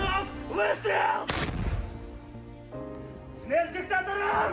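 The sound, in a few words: gunshot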